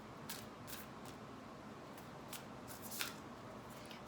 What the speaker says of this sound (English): So let's just shuffle those back in.